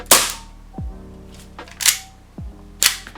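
Hi-Capa airsoft pistol shots fired through a chronograph: three sharp, loud cracks about a second apart, each with a brief metallic ring, plus small mechanical clicks between shots and no talking.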